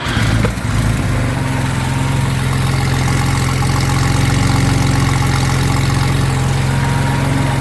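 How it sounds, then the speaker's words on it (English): A 1977 Porsche 911S flat-six cranks briefly and catches, then settles into a loud, steady, close idle with an even low rumble and no voices. "You fired up for me, please?"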